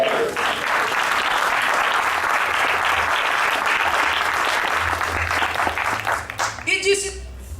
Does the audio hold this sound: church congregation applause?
yes